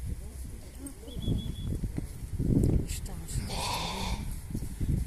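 Sheep bleat a few times in short, wavering calls among outdoor noise, with a person talking nearby as a sheepdog works the flock in Ireland.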